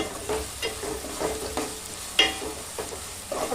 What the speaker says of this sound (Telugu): ఆయిల్లోనే ఫ్రై అవ్వాలి పుదీనా.